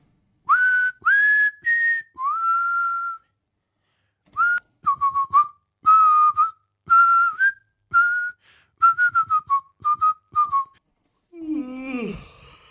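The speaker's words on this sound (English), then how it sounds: "some of them are whistling stuff" People whistling a melody in short separate phrases, some notes sliding up and down, with pauses between them, ending with a brief rough noise.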